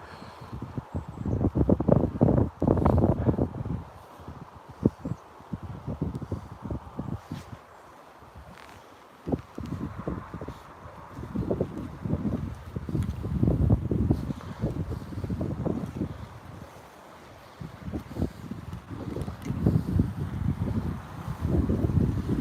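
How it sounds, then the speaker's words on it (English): Heavy wind buffets the microphone in low, rumbling gusts that rise and fall throughout, with no voices heard. "Sorry guys, it was a little windy."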